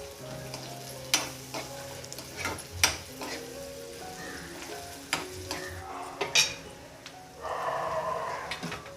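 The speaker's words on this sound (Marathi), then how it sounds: "आता फोडणी द्यायची भाजायला पाहिजे तेल पण मस्त असं गरम झालेलं आहे" Hot oil sizzles and crackles steadily as tempering spices fry for a Konkan jackfruit curry, with sharp clicks and clatters of a spoon stirring, swelling into a louder sizzle near the end.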